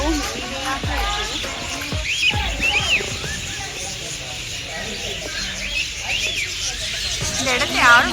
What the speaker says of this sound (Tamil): இந்த பறவைகளோட சத்தமே மிகவும் இனிமையாக இருக்கு